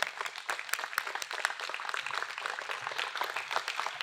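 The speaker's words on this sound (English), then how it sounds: "give these young people a round of applause, a real round of applause" Steady applause from a crowd at a district attorney's youth gun violence prevention event, dense clapping that runs the whole time at a moderate, even level with no voices.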